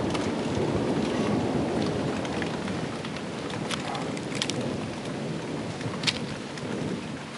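Heavy rain pours steadily during a lightning storm while low thunder rumbles throughout, with a few sharper cracks and drips standing out near the microphone and no talk.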